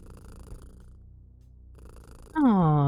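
A pet cat in the video game Kathy Rain 2 purrs as a low, steady rumble, then gives out a loud, rising-and-falling meow near the end, with no talk.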